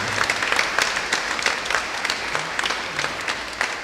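A church congregation at an Easter Vigil in Porac applauds in a loud, sustained, dense clapping that fills the room without a break.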